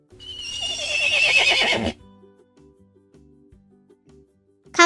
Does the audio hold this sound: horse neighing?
yes